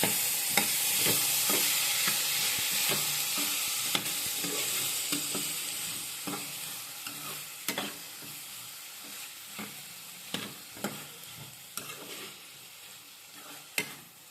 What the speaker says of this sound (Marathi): आणि आता ही गवार परतून घ्यायची तेल